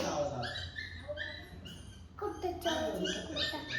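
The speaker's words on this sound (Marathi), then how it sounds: "तिनं तर कुत्र्याचा पिल्ल्याचा आवाज येतो" A puppy whimpers and yips in high, wavering cries, close by and repeated several times, mixed with people talking.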